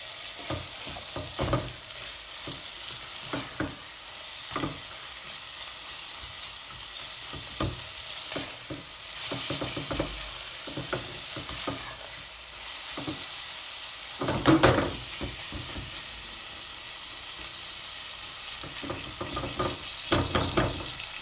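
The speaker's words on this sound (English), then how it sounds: "What we're going to do now is add in our chopped tomatoes." Chopped tomatoes hit sizzling masala in a frying pan for BIR-style chicken curry, giving a continuous loud fry with repeated scraping and stirring clatters throughout.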